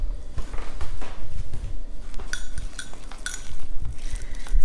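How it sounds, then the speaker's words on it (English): A teaspoon whisks a mixture in a dish with quick, steady metallic clinks and scraping against the bowl, close and continuous. "I'm just kind of whisking this up."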